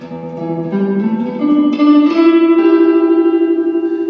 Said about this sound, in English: It's a nice spring reverb effect.